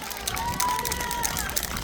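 Audience at a Miryang city singing contest awards ceremony keeps up steady, dense clapping mixed with crowd murmur and a faint tone of music or voice running through it for the whole stretch.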